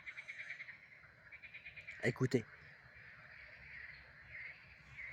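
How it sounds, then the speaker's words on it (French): Frogs croak at night outdoors, a faint, steady pulsing chorus running throughout, briefly interrupted by someone speaking a single word in French partway through. "c'est la nuit et vous pouvez entendre les grenouilles."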